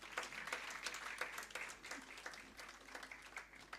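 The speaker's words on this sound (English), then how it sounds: "a big round of applause." An audience at an architecture and interior design chapter event in Hyderabad applauds warmly, with dense, steady clapping from a crowd filling the room at a moderate distance.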